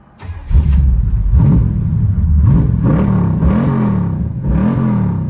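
A G-Body car engine warm-starting: a brief crank catches, then the engine settles into a loud, close, steady idle with repeated rising blips of revving throughout.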